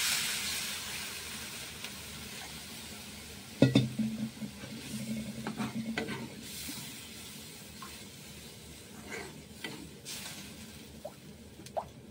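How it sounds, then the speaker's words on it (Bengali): Water poured onto fried spices in a pan for a gonia fish curry, a sharp hiss and bubbling burst that settles into softer spluttering and scattered clicks, fairly quiet and close. "দেখতে পাচ্ছ মশলাগুলো ফ্রাই হয়ে গেছে, এখন আমি জল দিয়ে দিচ্ছি।"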